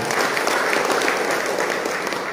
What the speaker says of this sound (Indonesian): Kita aplaus dulu untuk para calon bupati